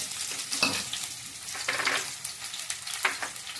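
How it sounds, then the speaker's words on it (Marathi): Crushed unpeeled garlic hits hot oil for a spicy Kolhapuri bhadang snack, giving a steady close sizzle with scraping stir strokes near the start, middle and end, and no talking. "लसूण चेचून घेतलेलं ते घालून घ्यायचंय"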